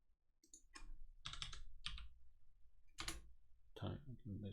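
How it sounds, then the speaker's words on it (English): Quick bursts of computer keyboard typing, a handful of short clustered key clicks close to the microphone, with a brief pause between groups. "enter a string, and I'm going to type apple"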